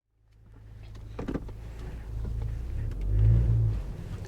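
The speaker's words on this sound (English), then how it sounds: "I could tell right off the bat that throttle is definitely a lot more responsive" An Audi A4 B8.5 S-Line with a tuned throttle pedal accelerates, its engine building to a low rumble that peaks briefly and settles, with a few brief interior clicks early on and no speech.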